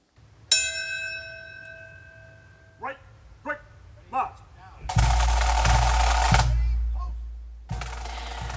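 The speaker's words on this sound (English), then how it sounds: "The bell of hope rings at Ground Zero in New York City." The Bell of Hope at Ground Zero in New York City strikes once with a long ringing tone, followed by several softer repeated strokes, then loud broadband bursts and noise take over.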